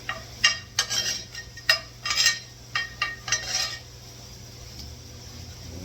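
A spoon repeatedly dips and scrapes in a skillet while chicken is basted with melted butter and garlic pieces, giving a run of uneven metallic clinks and scrapes over a low steady hum.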